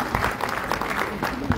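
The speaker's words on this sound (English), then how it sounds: "Let's together give a big round of applause to Vehaara Arts Festival" An audience at an arts festival claps in sustained, dense applause throughout, with crowd noise filling the space and no clear pauses.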